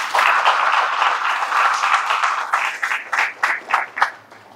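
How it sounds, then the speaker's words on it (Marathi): An audience at a spiritual satsang gathering claps loudly in a dense burst that then breaks into a few scattered, separate claps before fading. "त्यांच्यासाठी एकदम जोरात टाळ्या वाजवा"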